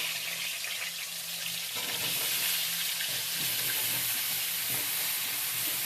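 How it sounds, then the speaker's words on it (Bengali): Steady, loud sizzling of bottle gourd and potato frying in hot oil, a continuous hiss that swells slightly after a couple of seconds, with no talking. "এবার এই তেলের মধ্যে আমি সবজিগুলো ভেজে নেব"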